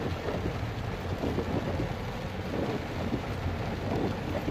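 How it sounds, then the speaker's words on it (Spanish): Heavy rain pours over city streets in La Unión, the flooded roads adding a steady wash of water; a dense, continuous roar of downpour with thunder-like rumble underneath, loud and unbroken throughout, no voices. "Pueden observar fuerte la lluvia, las calles inundadas."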